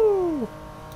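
A BMW E46 GTR in Need for Speed 2015: one engine note sweeps steadily downward as the revs fall, then drops off sharply to a quieter, low background rumble.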